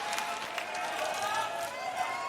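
Tennis crowd at the US Open applauding steadily after a service hold in an Alexandra Eala match, a dense continuous wash of clapping and murmur throughout.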